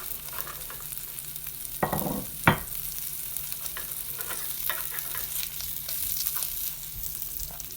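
Garlic butter salmon sizzles gently in a pan with a soft, continuous crackle, broken by a few sharper scrapes and clinks from a utensil stirring close by.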